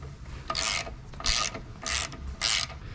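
A large breaker bar works stubborn bolts loose on a Yamaha 225 SHO outboard during an impeller replacement, making four rhythmic grinding, ratcheting bursts at close range, faint and without speech.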